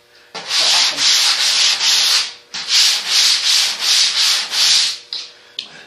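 Fresh sandpaper rubbing over a surface in loud, rhythmic back-and-forth strokes, about nine scratchy passes with a short pause midway and no voices.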